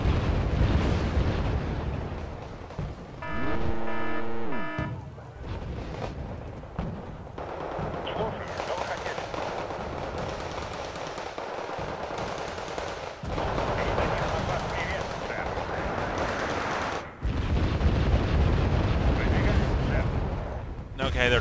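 Heavy artillery shells pound down on mortar positions in the Wargame video game, a rolling series of loud booms and crackling blasts with sustained rumble, broken by brief lulls.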